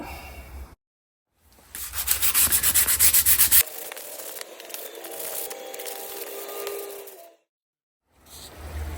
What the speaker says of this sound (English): Yeah, I finished sanding them down.